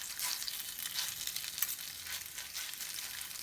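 Potato pancakes sizzle in hot oil in a pan, a steady close crackle of frying with a brief sharper pop midway, no voices.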